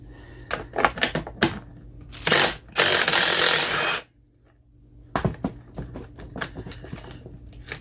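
A DeWalt 20 volt cordless impact driver works on a pool pump repair, giving several short ratcheting bursts and one longer sustained run, close and loud, with quieter tool clatter between.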